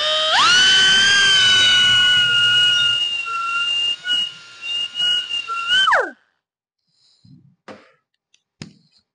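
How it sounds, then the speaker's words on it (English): A Würth air straight grinder fitted with a burr spools up to a loud, high steady whine, holds it while cutting steel with brief load dips, then winds down and stops, followed by a few faint scrapes. "let me quickly show you in terms of the straight grinder"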